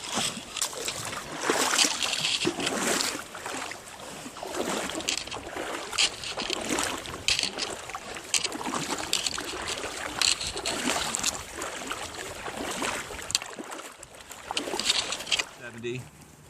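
Cold mountain creek along the Pacific Crest Trail near Muir Pass, a steady close rush and splash of flowing water filling the whole stretch, with faint voices now and then.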